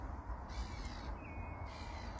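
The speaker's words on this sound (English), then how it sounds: "And these birds are really enthusiastic." Crows cawing outdoors at sunset by a lake, several harsh calls spread through a short stretch over steady low wind rumble and background noise.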